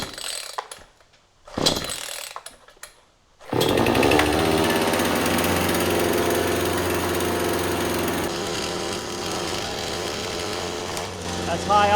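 A brand-new bargain chainsaw, its engine just started, runs at a loud, steady high idle after a few short sputtering bursts. The drone holds near and constant, then drops slightly in level. A voice speaks briefly over the engine.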